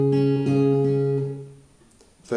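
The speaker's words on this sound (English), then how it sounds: "So this next bit's going to sound like this." Fingerpicked acoustic guitar playing a short phrase from the intro of a song, a few plucked notes ringing close and clear before fading, with a light handling noise at the end.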